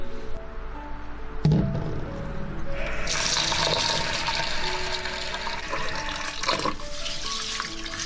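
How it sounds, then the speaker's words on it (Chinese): Water from a tap runs steadily to rinse peanuts, red beans and black glutinous rice, starting with a brief splash and swelling into a continuous, bright, close gush that fills the rest of the clip. "清洗一遍，然后再用清水浸泡2个小时以上。"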